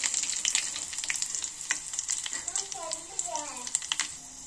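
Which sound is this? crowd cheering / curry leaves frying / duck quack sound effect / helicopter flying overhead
curry leaves frying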